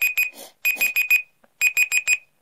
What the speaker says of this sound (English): So earlier I set the timer, now it's beeping.